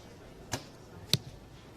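Two sharp, brief impacts about half a second apart in a quiet setting, arrows from a compound bow striking a target during a men's team gold-medal archery final at the Legnica 2018 European championships.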